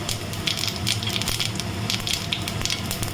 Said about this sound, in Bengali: এর মধ্যে আমি গোটা জিরে তেজপাতা একটা শুকনো লঙ্কা ফোড়ন দিলাম